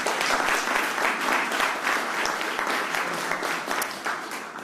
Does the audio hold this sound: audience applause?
yes